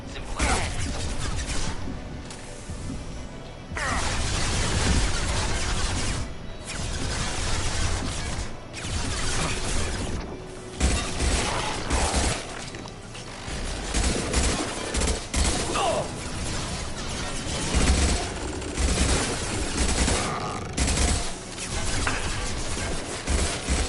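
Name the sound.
gunfire and high-impact shots in Mass Effect video game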